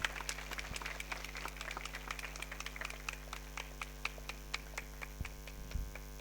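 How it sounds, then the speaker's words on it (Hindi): Scattered hand claps from a small gathering at a prison yoga camp in Sonbhadra, sparse and irregular over a steady low mains hum, fairly quiet and without speech. "जोरदार तालियां बजाएंगे"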